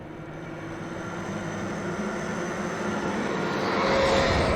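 Helicopter engine in the Alan Wake Remastered video game, a continuous droning whine and rumble that swells gradually louder toward the end, with no voices over it.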